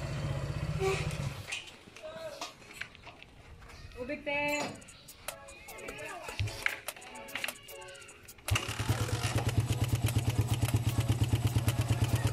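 A motorcycle with a 30mm Koso carburetor, freshly tuned, idles with a steady rapid mechanical clatter after some revving and clanking, loud and close, with a person talking over it.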